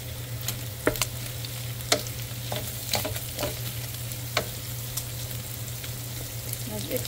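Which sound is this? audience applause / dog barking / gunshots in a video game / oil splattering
oil splattering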